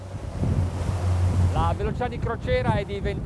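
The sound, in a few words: motor yacht cruising at speed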